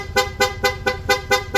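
A PIAA dual horn fitted to a Honda Click 160 scooter blasts a rapid string of about six short, loud, evenly spaced toots, close by with nothing else heard.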